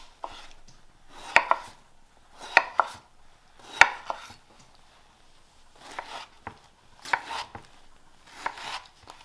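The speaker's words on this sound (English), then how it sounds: "I'm using Patricia tomatoes for this recipe. I'm just going to cut those up." Knife chopping tomatoes on a cutting board, in several quick bursts of sharp taps with short pauses between, close and fairly quiet.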